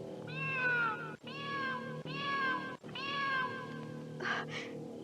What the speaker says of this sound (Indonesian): Ibu, dengar suara kucing itu.